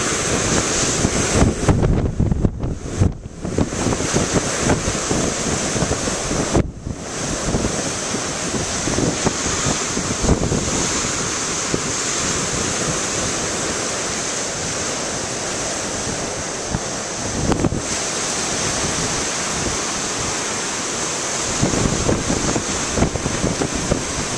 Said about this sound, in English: Those waves, man.